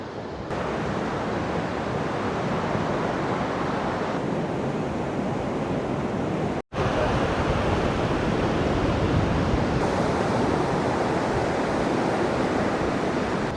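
Rough North Sea waves at Skegness pier roar as a constant broadband wash, heavy with wind noise buffeting the microphone, loud and unbroken apart from a brief cutout midway.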